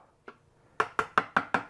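Wooden sawhorse having its fragile corners knocked off by hand before planing: one light tap, then five sharp, evenly spaced knocks in quick succession, close and clear in a quiet room.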